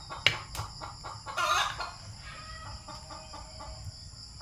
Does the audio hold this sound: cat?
no